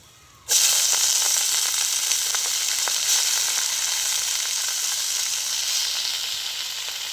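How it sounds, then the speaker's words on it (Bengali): Garlic fries in hot oil in a pan, browning for pea greens; a sudden loud sizzle bursts in and holds as a steady bright hiss that slowly eases, close and alone. "রসুন বাদামি কালার আসা পর্যন্ত একটু ভেজে নেবেন ভালো করে।"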